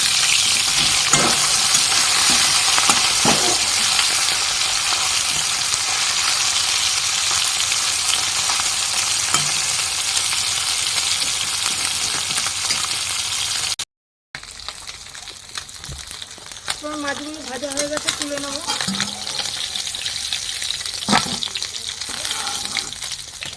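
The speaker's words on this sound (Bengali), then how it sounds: "মানে এক পিট ভাজা হয়ে গেছে আর এক পিট উল্টে দেবো" Tengra fish frying in hot, smoking oil, a steady loud sizzle that breaks off briefly as the pieces are flipped, then resumes with spattering crackles and occasional utensil scrapes.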